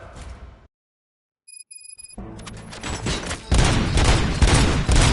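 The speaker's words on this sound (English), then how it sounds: "Gunshots? What's going on?" Gunfire in the video game RoboCop: Rogue City, a dense sustained fusillade of shots that swells loud after a brief silence and a few chimes, with no talk over it.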